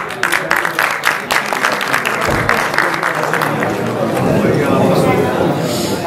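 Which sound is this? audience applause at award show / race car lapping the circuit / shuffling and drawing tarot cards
audience applause at award show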